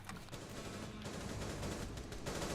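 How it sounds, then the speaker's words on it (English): Gunfire from the game Rainbow Six Siege crackles in a rapid sequence of shots over dense background noise, faint and distant in the mix. "a couple of missed shots there"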